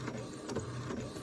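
An Epson EcoTank inkjet printer runs through a page, giving a steady mechanical whir and clatter with repeated short carriage pulses, close and moderately loud, with no talking.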